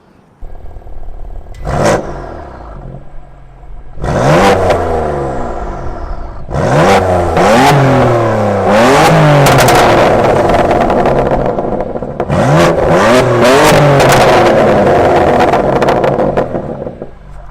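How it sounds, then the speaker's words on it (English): A BMW M2 Competition's engine revs repeatedly through its black-tipped exhaust, with loud rising and falling blips in bursts and one longer sustained rev, close and loud with no talking. "And the exhaust on here sounds pretty good."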